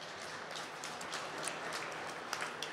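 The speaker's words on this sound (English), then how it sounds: "Let's give them a nice round of applause." Audience clapping at a Wisconsin cow championship show, a steady dense patter of many hands held at a moderate level throughout, with no voices over it.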